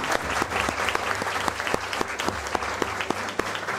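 Sustained, loud applause from a crowd at an IAS coaching institute ceremony, many hands clapping in a continuous wash with a few sharper individual claps standing out.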